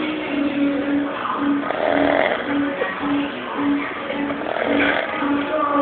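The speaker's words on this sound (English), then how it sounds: "this is the incredible snoring man" A man snores loudly and steadily in deep sleep, each rasping breath repeating in a regular rhythm about every half second, close and continuous.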